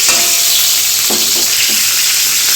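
Pointed gourd and potato pieces fry in hot oil, giving a loud, steady sizzle with a few soft stirring knocks, close and without talk.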